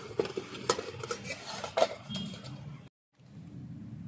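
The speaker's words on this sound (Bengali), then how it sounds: "এবার দেব একটু লঙ্কার গুঁড়ো, ভালো করে মাখিয়ে নেব।" Pieces of pointed gourd are tossed and rubbed by hand with turmeric and chilli powder in a metal bowl, giving a run of close clinks and scraping stirs before a brief pause and a softer tail.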